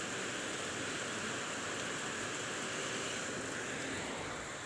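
A downpour of heavy rain in Brunei roars steadily, thick broadband wash of falling water, loud and constant throughout without speech.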